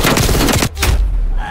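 Shotgun blasts in a video game gun match, two loud broadband bangs close together with a brief gap, followed by a fainter decaying tail.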